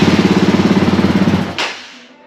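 A motorbike engine, fitted with a worn spark plug, chugs loudly and close in a fast pulsing rhythm before cutting out abruptly, leaving a short fading tail.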